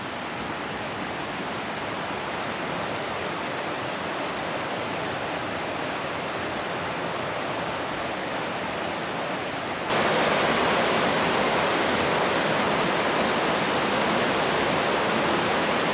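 The Stillaguamish River rushes along the Mountain Loop Highway in Washington as a steady, broadband roar of flowing water, loud and constant, growing slightly louder partway through with no voices.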